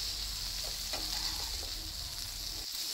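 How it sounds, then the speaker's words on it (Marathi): Mandeli fish deep frying in hot oil over low heat, a soft, even sizzle with light bubbling, close by and uninterrupted by speech. "गरम केलेल्या तेलामध्ये ती फ्राय करण्यासाठी ठेवा"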